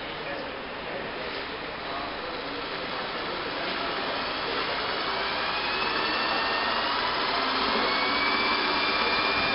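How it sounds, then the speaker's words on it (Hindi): An electric DC motor runs up to about 980 rpm as its armature voltage is raised, giving a loud, continuous broadband whir that rises gradually in pitch with no clear speech over it. "अभी 980 आरपीएम पर ये मोटर जो है चल रही है"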